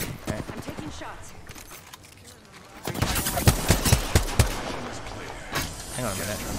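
Gunfire in Apex Legends: a quieter stretch of scattered shots and game noise, then a run of loud, sharp reports spaced in quick bursts, with a voice talking under the action.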